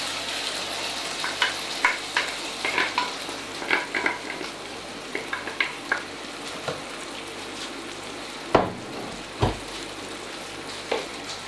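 Remaining marinade added to frying chicken korma, a steady crackling sizzle with scattered spits and pops, plus a couple of louder stirring thumps and scrapes toward the end, close by and without talk.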